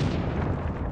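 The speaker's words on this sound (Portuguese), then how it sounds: "Ai, bomba, ferrou." A bomb blast in the battle royale game Rules of Survival gives a loud, close, broadband boom that rumbles on and fades slightly over a single second.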